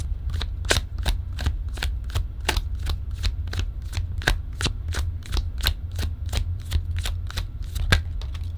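Deck of tarot cards being shuffled close by, a steady run of crisp riffling snaps repeating at an even, quick rhythm, quiet and alone without talk.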